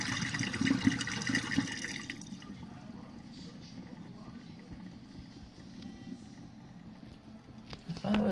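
A 2025 GE dishwasher in its final rinse cycle gives soft, faint water swishing and spraying, slightly louder at first and then settling into a quiet steady wash.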